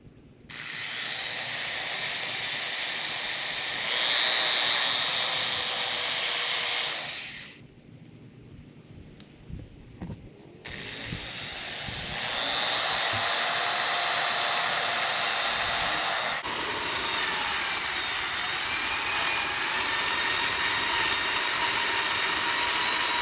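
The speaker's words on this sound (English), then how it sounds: "we're going to grind off a little bit more of the paint over here" A loud, harsh power grinder whines for several seconds grinding paint off a BMW R90/6 motorcycle frame, pauses briefly amid clanks, then grinds again in long continuous stretches.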